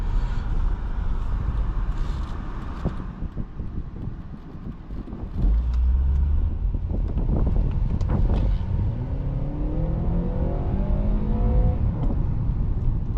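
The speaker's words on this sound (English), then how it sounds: "Pretty good acceleration." A 2013 Acura TSX engine revs up and accelerates in S mode with a rising, climbing pitch, heard over loud wind and road rumble.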